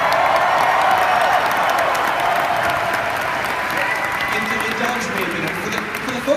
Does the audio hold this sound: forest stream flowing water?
no